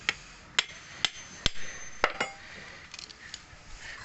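Chisel working wood for a homemade lamp, a series of sharp, evenly spaced taps and knocks followed by a few lighter ones, close up with no talk.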